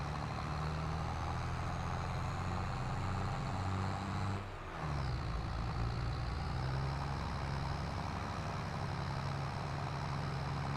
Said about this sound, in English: It's just a small, like, hobby-sized harvester.